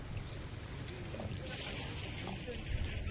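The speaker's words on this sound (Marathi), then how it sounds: "तर आपले बोट पण आलेले आहे." A fishing boat arrives at the shore at Jaigad on the Konkan coast, its broadband engine and water wash rumbling steadily and fairly loud, with speech mixed in.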